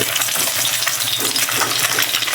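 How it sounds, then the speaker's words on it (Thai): An egg frying in hot oil in a pan, loud dense crackling and spitting that holds steady and close for the whole stretch, with no voices. "เราก็จะมาทอดไข่ก่อนนะคะ"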